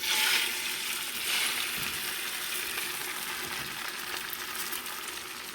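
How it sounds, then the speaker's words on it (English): Eggs frying in the oil left in a pan over very low heat, a steady soft sizzle with a brief brighter burst early on, close and continuous with no talking. "with the same oil that is left in the pan, I turn it very low, and I'm going to put some eggs."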